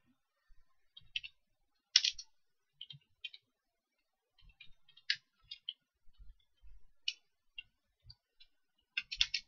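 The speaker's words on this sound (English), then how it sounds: "Let's just type in." Computer keyboard typing comes in scattered, quiet bursts of crisp key clicks, with short pauses between groups of presses in an otherwise silent room.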